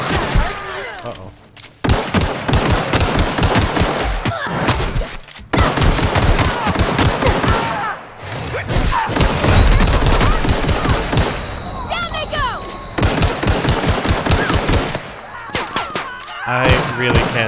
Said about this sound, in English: Let's shoot them real quick.